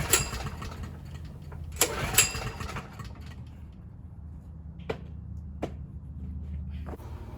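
A Wacker Neuson GP6600 generator engine is cranked with starter fluid and backfires, giving sharp pops and bursts of rough, sputtering engine noise that trail off into a quieter rumble broken by occasional cracks.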